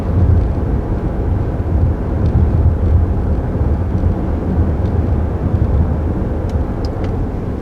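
Steady low road rumble fills the cabin of a 2022 Nissan Pathfinder or Toyota Highlander, 3-row crossover SUVs, while driving, a constant broadband drone with a few faint high ticks, no voices.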